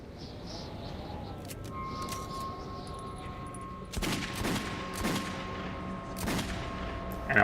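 An AK rifle fires in the shooter Metro 2033, with a few sharp, loud cracks spaced irregularly over a low ambient rumble, plus fainter metallic clicks between shots.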